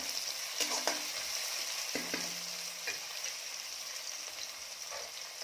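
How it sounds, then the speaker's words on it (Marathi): Tomato fries with browned onions in a pan for Kolhapuri mutton, giving a steady close sizzle with a few soft stirring clinks and scrapes. "आता यामध्ये मी टाकत आहे टोमॅटो टोमॅटो छान लालसर करून घेऊया"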